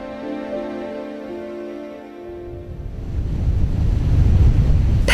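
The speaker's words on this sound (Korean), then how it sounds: "태풍이 한바탕 섬을 휘갈키고 간 후에도 세찬 파도와 바람이 섬을 맴돕니다." Strong surf and gusting wind roll over a Jeju harbor in the aftermath of a typhoon. A steady tonal hum fades out in the first seconds, and then the broadband roar of waves and wind swells louder and fills the clip.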